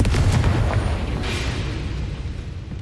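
A Confringo blast spell goes off in the video game Hogwarts Legacy: a loud, booming explosive burst with a rumbling tail and a brief crackling flare partway through.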